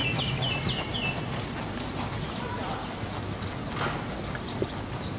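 A horse in dressage training walks with steady, close clip-clopping hooves amid faint background birdsong and ambient outdoor sound.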